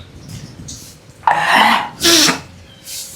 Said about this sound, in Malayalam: ചുമ ആണ് മെയിനായിട്ട്